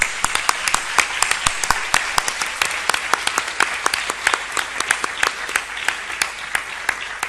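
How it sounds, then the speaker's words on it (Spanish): An audience at a university teaching conference applauds, with many distinct hand claps rattling steadily and fairly close for the whole stretch, without any speaking. "Bueno, pues un aplauso entonces."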